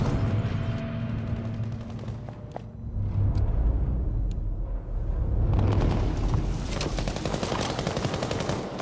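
An MMG machine gun in Battlefield V on PlayStation 5 fires long, dense bursts of rapid automatic gunfire, loud and close, with a short lull partway through before the fire resumes.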